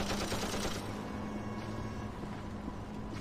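Rapid gunfire from the TimeShift shooter game, a dense, continuous barrage of shots and clatter that stays loud through the whole stretch, with no voices.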